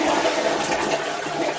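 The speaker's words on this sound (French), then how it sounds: "Vous tirez la chasse d'eau." A Japanese smart toilet flushing, a loud, close rush of water filling the short moment on its own with no talk.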